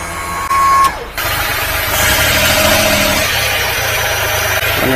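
A mini-truck engine fitted with a larger 32 mm eBay carburetor idles steadily close by, a continuous mechanical hum and rattle after a brief higher whine and a short drop at the start.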